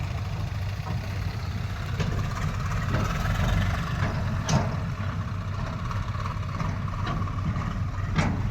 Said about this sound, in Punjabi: ਇਹ ਟਰੈਕਟਰ ਆ ਵੀਰ ਦਾ